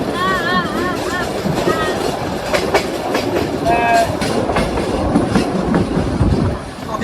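A train runs along a railway line through hilly forest near Sreemangal, with steady rumbling and clickety-clack of wagons throughout, brief squealing wheel tones, and birds calling at the start.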